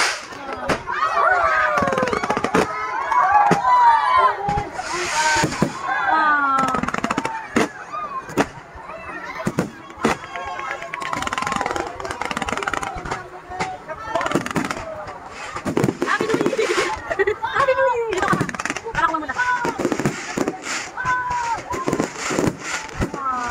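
Fireworks display bursting over a mall parking lot at SM Pampanga, a dense, loud run of sharp booms and crackles going on throughout, with a crowd cheering and talking underneath.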